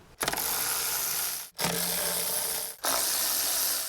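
A ratchet spins off 10 mm bolts from the engine cover of a 2004-2009 Toyota Prius, with rapid continuous clicking in three close bursts separated by brief pauses.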